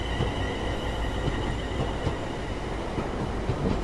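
A Class 350 electric train on the West Coast Main Line accelerating away in Train Sim World 5, a loud, continuous rail roar with wheel rumble and faint squeal, with no voices.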